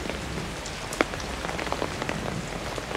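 Steady rain patters on surfaces in the grounds of a Buddhist temple, a dense continuous hiss of drops with a few sharper splashes standing out, no voices.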